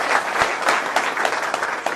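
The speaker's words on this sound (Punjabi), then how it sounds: "ਸੋ ਇੱਕ ਵਾਰ ਜ਼ੋਰਦਾਰ ਤਾੜੀਆਂ ਨਾਲ ਦਾ ਧੰਨਵਾਦ" A riverside crowd gathered at a flood-relief event breaks into brief, dense applause, many hands clapping together at a steady level with no voices on top.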